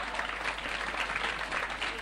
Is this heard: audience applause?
yes